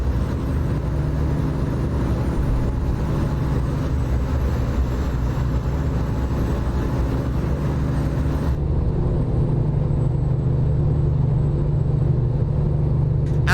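A Cummins X15 engine in a truck in American Truck Simulator gives a steady, low rumbling drone that holds evenly throughout with no talking.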